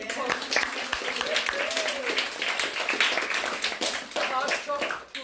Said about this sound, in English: applause for Victor